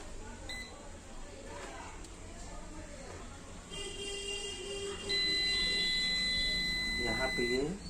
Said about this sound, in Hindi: यहाँ पे ये बीप कर रही है, लेकिन बीप के साथ वैल्यू भी बता रहा है।